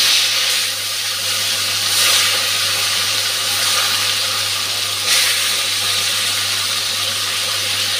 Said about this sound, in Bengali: তেলটা গরম হয়ে গেছে, আমি এখন নুন হলুদ মেখে রাখা মাছটা ভেজে নেব